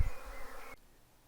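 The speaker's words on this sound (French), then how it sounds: "Je vais vous montrer comment les abeilles de notre jardin d'Île-de-France ont vécu malgré une forte présence des frelons" Honeybees buzz in an Île-de-France garden where hornets also hunt, a brief close insect drone that cuts off abruptly, leaving faint background hiss.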